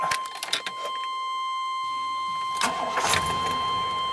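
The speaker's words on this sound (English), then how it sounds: "Let me actually start her up" A 1996 Chevy Silverado Z71 pickup turning over: a few clicks and cranking, then the engine catches around midway and settles into a steady idle, with a brief throttle blip near the end, loud and close.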